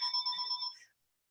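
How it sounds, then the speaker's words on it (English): A phone ringing with a short, faint electronic ring burst that fades out after under a second. "there goes my phone that I forgot to disconnect."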